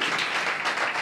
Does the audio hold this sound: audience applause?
yes